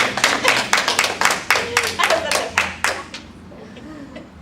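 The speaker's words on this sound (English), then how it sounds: "We should all clap for Nas" A small group claps together in a room at a talk on spiritual emergence and trauma, with close, crisp, rapid hand claps for about three seconds that stop abruptly before someone starts speaking.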